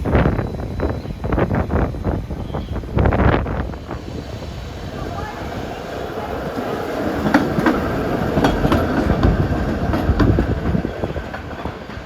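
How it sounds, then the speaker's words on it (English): A painted San Francisco Muni historic trolley rumbles along 7th Street, a steady low rolling rumble with a few rail clicks, heavy wind buffeting the microphone and faint street noise around it. "San Francisco painted Muni trolley rumbling over 7th Street"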